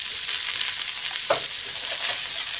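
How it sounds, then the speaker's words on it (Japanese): Chicken sizzles and fries steadily in a pan as sesame oil and soy sauce are drizzled in, a soft, close crackle with one brief sharper spatter midway. "ごま油と醤油が垂れてますね。"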